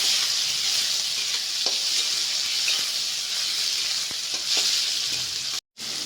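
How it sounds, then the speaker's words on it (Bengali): Tomatoes frying with onions and spices in a pan as they are stirred, a steady hissing sizzle with occasional faint scrapes and pops, ending in a brief dropout. "ভালো করে নাড়াচাড়া করে নেব।"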